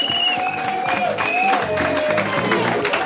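Guests applaud at a customary wedding, steady clapping from the gathered crowd running under a tonal melodic line, with a voice sounding faintly beneath it.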